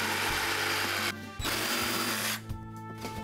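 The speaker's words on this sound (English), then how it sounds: "Jigsaw time." A jigsaw cuts through a board to make a round-hooked bike-frame holder, its loud buzzing blade running steadily with two short pauses in the stroke.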